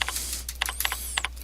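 Keys on a computer keyboard are tapped in quick, irregular bursts of crisp clicks, close and fairly loud, over a steady low hum, with no talking.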